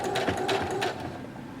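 A sewing machine runs briefly while stitching the final line on a fabric napkin, a quick mechanical whirring burst with rhythmic needle clatter that stops after about a second, leaving a quiet hum.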